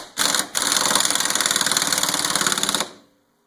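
A pneumatic impact gun tightens a new wheel stud, a loud rapid hammering rattle that starts, pauses briefly, then runs steadily for about two seconds before cutting off.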